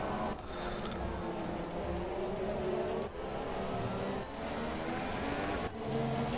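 F1 race cars run side by side in the F1 2017 game at the Australian Grand Prix, a steady, fairly faint high engine drone with brief dips and surges as they pass.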